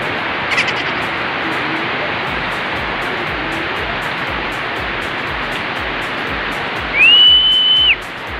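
Heavy typhoon rain from Typhoon Goring pours in a dense, roaring wash of noise close by, with a brief whistle-like tone near the end.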